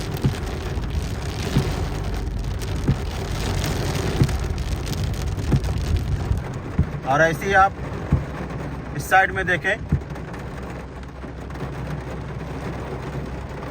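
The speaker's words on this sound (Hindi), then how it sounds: "बारिश की आवाज़।" Steady heavy rain hisses and patters on a street in Makkah across the whole clip, with someone talking briefly over it partway through.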